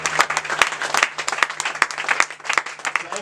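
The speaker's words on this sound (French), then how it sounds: "Si on peut acclamer très fort pour le Seigneur." A church congregation at a Sunday evening service claps loudly, with dense, uneven hand claps throughout and a few voices mixed in.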